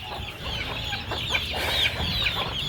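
Chickens clucking close by in a shed holding Koli chicks, with continuous overlapping clucks and short calls and no talking.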